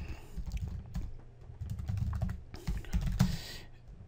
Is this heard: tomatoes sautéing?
no